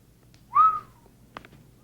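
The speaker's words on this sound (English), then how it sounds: "There is a reason to whistle, I presume." A person whistles once, a single short rising then falling note close by, followed by a few faint soft knocks in an otherwise quiet room.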